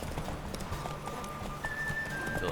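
Galloping horse hooves in The Witcher 3 pound in a fast, steady rhythm over a low rumble, close and continuous, with a thin sustained tone in the background.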